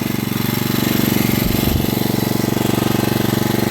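A small generator runs at an off-grid setup with a steady, close, throbbing drone that holds an even pulse and dips briefly midway.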